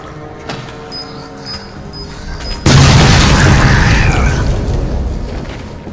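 A loud grenade blast in Resident Evil 7 Biohazard erupts suddenly after a quieter stretch of game ambience and tones, then rolls on as a sustained, roaring rumble that slowly fades.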